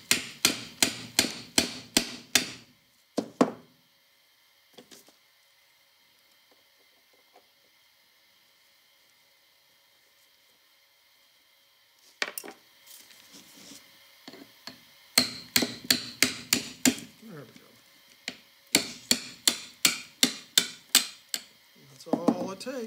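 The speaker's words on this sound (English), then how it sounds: "you just come in here with bronze hammer and just..." A bronze hammer taps a spindle shaft out of a Pathé Concert Model A phonograph, in close, sharp bursts of rapid metallic blows separated by a long quiet pause, then several more quick volleys.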